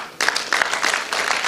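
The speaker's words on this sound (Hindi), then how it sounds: "सर के लिए एक बार जोश तालियां।" A seated audience at a goal-setting talk breaks into clapping for the speaker, brisk applause starting suddenly and continuing in close, uneven waves.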